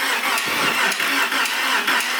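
A Porsche 911 engine cranks on its first startup after work, with a continuous starter whir and faint rhythmic pulses. It is close, steady and loud, with no talking.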